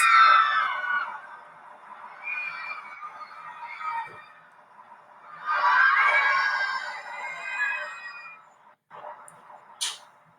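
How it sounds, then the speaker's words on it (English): Virtual roller coaster riders in a theme park video game let out swelling waves of high, crowd-like screams, rising and fading twice, then a short sharp sound near the end. "If you have a successful roller coaster, those screams will actually give you bonus points."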